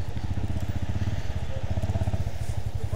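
A motorcycle engine chugs steadily at low revs with a rapid pulsing beat while the bike crosses near Manthoka Waterfall, loud and close throughout with no talk.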